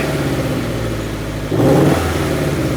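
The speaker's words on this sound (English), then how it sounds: "Go ahead and give it some gas." A car engine in a home garage idles with a steady low hum, then rises sharply into a louder rev as the throttle opens. The sound is close and loud, and no one talks over it.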